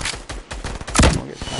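Rapid bursts of gunfire in a squad battle video game, sharp cracks in quick succession with one louder close volley, under brief talk.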